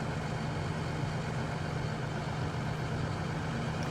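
A tractor engine running in the Farming Simulator 2013 video game, a constant low mechanical drone at steady volume with no change in pitch and no talking.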